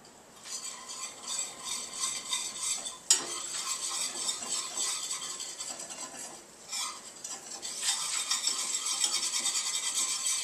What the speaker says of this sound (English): use our whisk to get up some of the little bits on the bottom of the pan